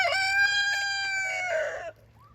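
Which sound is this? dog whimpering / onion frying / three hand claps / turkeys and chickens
turkeys and chickens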